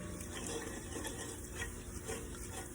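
Butter browns in a pan with a faint, even sizzle and soft stirring scrapes, quiet and close, with no voices.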